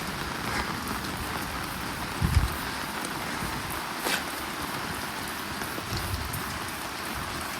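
Steady rain falling during a rainy-day car wash, an even, continuous patter of drops on surfaces with a few brief thumps of handling nearby.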